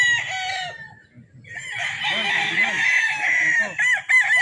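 A Super Kelso gamecock rooster crows close by, one long drawn-out cock-a-doodle-doo with a few clucks around it. Faint voices and farmyard noise sit underneath.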